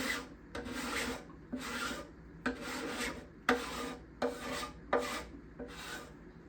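A hand scraper works along the back-side bindings in about eight separate strokes, each a close, rasping scrape with brief pauses between, and no voices.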